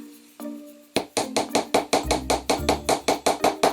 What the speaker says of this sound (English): And I'm just going to put it on the edge like that and hammer it.